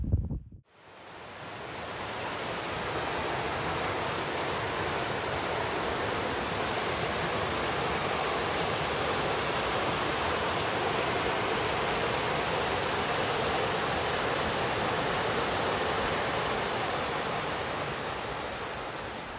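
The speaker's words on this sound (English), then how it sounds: "And I'm sorry for the wind here." Constant broadband rushing roar of wind buffeting a microphone, starting after a brief quiet moment and holding steady throughout.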